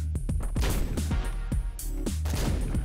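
Rapid, heavy gunshots from the video game Hotline Miami, roughly a shot every half second, booming over a loud pulsing synth soundtrack.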